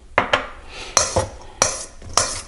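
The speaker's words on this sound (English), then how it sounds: "A big spoon to stir it up." Big spoon stirring quinoa salad in a pot, four close pairs of clinking scrapes in a steady rhythm, with no talking.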